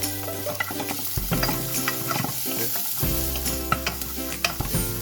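Garlic fries in hot, smoking oil with a loud, crackling sizzle, broken by stirring scrapes and small pan clatters, with no voices.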